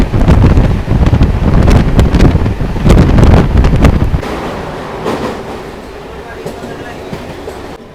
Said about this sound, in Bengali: ট্রেন ছাড়তে না ছাড়তেই একটা অসাধারণ অ্যাক্সিলারেশন